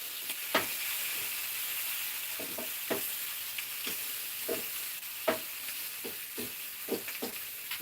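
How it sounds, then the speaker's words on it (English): Bacon sizzles steadily in a frying pan, a continuous crackling hiss broken by frequent sharp pops and spits, close and alone with no talking. "The bacon's going. We got that sizzle."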